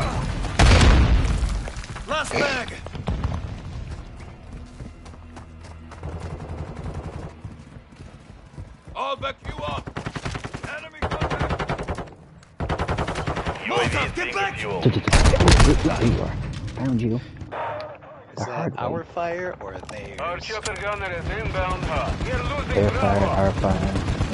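Video game gunfire and grenade explosions crack and boom in irregular loud bursts, mixed with frequent talking throughout.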